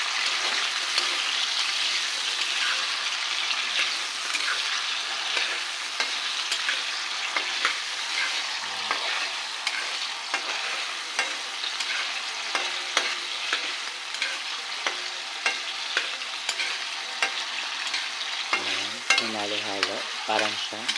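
An egg stirred and turned in a hot frying pan, with steady sizzling and frying under repeated scraping and stirring strokes throughout, close and clear, with no talking.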